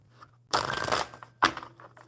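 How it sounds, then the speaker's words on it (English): Tarot cards being shuffled by hand during a live coffee-and-cards session, heard as two bursts of riffling: a longer dense rustle followed by a shorter one, close and fairly loud against a quiet low hum. "So I'm going to go ahead and start shuffling the tarot for Baby Mike."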